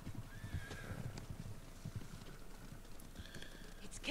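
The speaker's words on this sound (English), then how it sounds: "Horses, they're coming for us." Horses gallop with quick clip-clop hoofbeats and whinny twice in Ghost of Tsushima, the hooves steady and fairly close under a faint ambient bed, with sharp neighs near the start and end.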